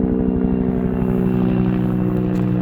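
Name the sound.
helicopter flying overhead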